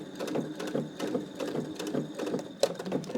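A sewing machine stitches over a thick jean seam in a rapid, even run of mechanical clatter, with a sharp knock near the end, close and alone.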